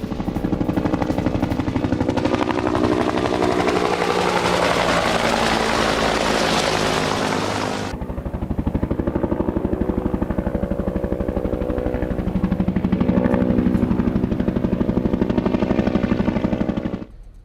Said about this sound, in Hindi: रूसी अटैक हेलीकॉप्टर की बारूदी बौछार देखिए।